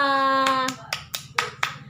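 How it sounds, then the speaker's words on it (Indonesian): Classroom applause for student groups who presented: a sustained tone gives way to about six separate, sharp hand claps in an uneven rhythm, close by. "Tepuk tangan untuk kita semua"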